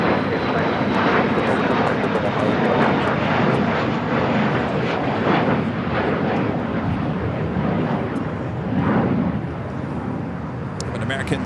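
American 737-800 and United A321neo jet airliners at LAX, their engines a loud, continuous roar that fills the whole stretch, with voices talking over it.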